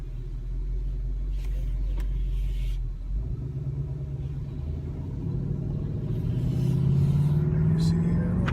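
A 2018 Ford Mustang GT 5.0 convertible pulls away and accelerates, its V8 rumble deepening and then rising in pitch as it gains speed, close and steady, with a person talking over the engine.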